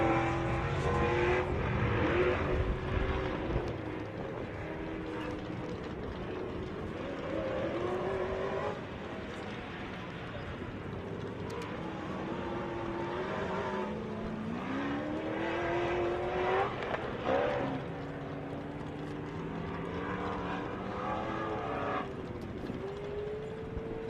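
Off-road race vehicles at the 2017 MetalCloak Stampede, engines droning and revving continuously, with rising and falling pitch as they climb and pass, steady and fairly loud throughout.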